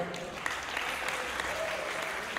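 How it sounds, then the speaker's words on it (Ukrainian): Crowd applause at a wrestling talk show, a dense, steady patter of many hands clapping at moderate level throughout, with no other sounds standing out. "Можна аплодисменти для Славіка"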